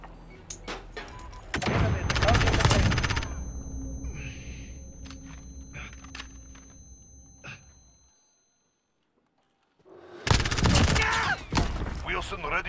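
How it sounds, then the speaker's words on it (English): Enemy sentry gun in Call of Duty: Modern Warfare, heard as rapid bursts of gunfire with sharp cracks and heavier thumps, then a silent gap before another loud burst. Radio-style voices speak faintly in between. "Enemy sentry gun active."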